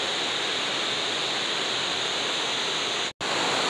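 A river runs beneath a bridge in the Kedar valley, a steady broad rushing roar of water, loud and continuous, with one very brief dropout near the end and no talk.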